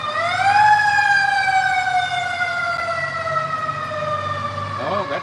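Outdoors, a fire ladder truck siren sounds loud and close, rising quickly and then holding a long steady wail that slowly drops, with a low vehicle rumble beneath and a brief pitch change near the end.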